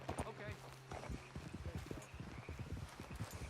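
Horse hooves in the Western video game Red Dead Redemption 2 clip-clopping at a steady walking rhythm, close by and distinct, with talk over the hoofbeats.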